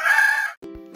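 A rooster crows in a brief, bright, strained call that breaks off abruptly, followed by a shorter, lower harmonic note. It is close and clear with no talking.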